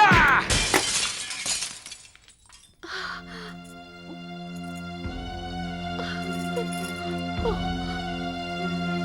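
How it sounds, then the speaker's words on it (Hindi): A framed picture falls and its glass shatters in a sharp, loud crash with scattering shards, followed by a quiet gap and then a sustained, tonal background drone with periodic low swells. "बाबा की तस्वीर कैसे गिरी?"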